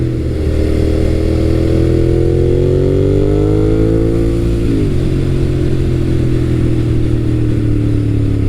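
A 2003-2008 second-generation Suzuki SV650 V-twin naked motorcycle idling with a deep, loud throbbing rumble, its pitch climbing steadily through a revving sweep and then dropping sharply back to a lumpy idle, heard close with no talking.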